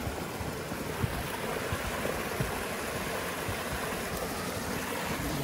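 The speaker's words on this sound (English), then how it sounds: "There's your little creek." A small creek flowing near a ski trip stop, a steady broadband rush of running water, continuous and fairly soft with no voices.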